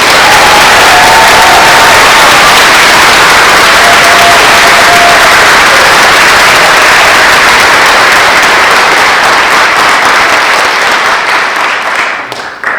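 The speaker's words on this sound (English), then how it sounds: "Please join me in thanking them with a round of applause" Loud, sustained audience applause at a high school National Honor Society induction ceremony, dense clapping filling the room for about twelve seconds before tapering off at the end.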